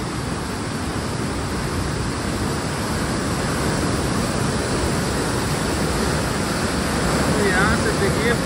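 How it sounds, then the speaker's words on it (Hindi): Fast-flowing Koshi River water rushing through the Koshi barrage in Nepal, a loud, constant broadband roar that stays steady throughout. "देखिए पानी का स्पीड कितना है"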